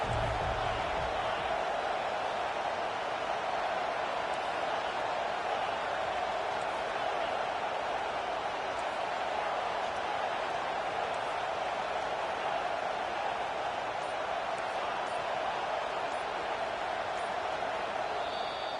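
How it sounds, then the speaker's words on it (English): A home crowd at a Rutgers football game roars steadily in a packed stadium on a third down, a broad sustained cheer that holds at an even level throughout. "Here comes this home crowd as the defense tries to get off the field on 3rd down."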